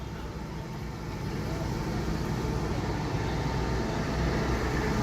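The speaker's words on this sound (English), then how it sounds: "think that bus will be late though." A bus rumbles past on a country lane in rural Hampshire, its engine swelling from moderate to loud and close over several seconds, while people talk nearby.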